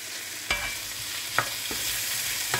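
Chicken noodles with ginger and sauce stir-fry in a wok, giving a steady close sizzle broken by a few sharp clicks of the utensil, with no voices.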